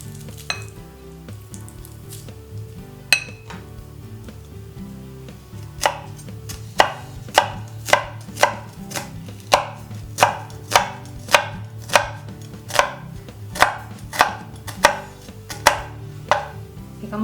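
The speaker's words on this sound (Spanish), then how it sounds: "Picamos el ajo. Yo voy a usar este aparatín, que así me ahorro bastante trabajo." Garlic being chopped with a small kitchen chopper: crisp, regular chopping knocks, close and distinct, a few scattered hits at first, then a steady run of evenly spaced strikes, with no talk.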